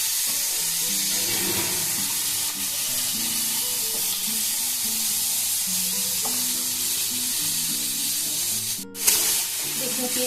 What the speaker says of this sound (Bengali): একটা বড় টমেটোকে টুকরো করে দিয়ে যাচ্ছে। এবার এটাকে আমি একটু ভেজে নরম করে নেবো।